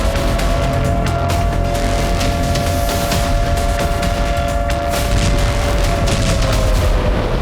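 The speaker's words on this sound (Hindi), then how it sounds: "जैसे ही यूक्रेन की जमीन पर धमाके होने शुरू हुए" War footage from Ukraine carries a dense, continuous barrage of heavy explosions and gunfire, with booming blasts and sharp cracks stacking one on another, loud and sustained throughout.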